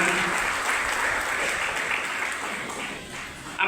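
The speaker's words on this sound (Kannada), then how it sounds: "ಎಲ್ಲ ಹಿರಿಯರಿಗೆ ಒಂದು ಚಪ್ಪಾಳೆಯ ಮುಖಾಂತರ ಅವರಿಗೆ ಕೃತಜ್ಞತೆಗಳನ್ನು ಸಲ್ಲಿಸೋಣ." Audience applause at a community hall event honouring SSLC and PUC students, a steady crowd clapping sustained for several seconds with no talk over it.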